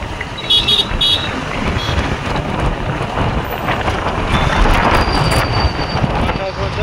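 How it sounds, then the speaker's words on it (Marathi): Road traffic on the way to Pandharpur near Tembhurni: a continuous rumble of passing cars, buffeted by wind on the microphone, with a few car horns and voices mixed in. "बघा ट्रॅफिक पंढरपूरच्या रस्त्याला"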